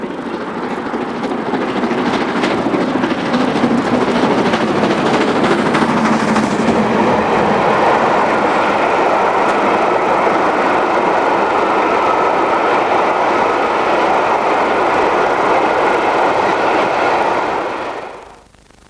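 Preserved steam locomotive 46203 hauling a train bound for Crewe, a loud, steady rumble and roar with rhythmic rail clatter that holds close for most of the stretch before cutting off abruptly.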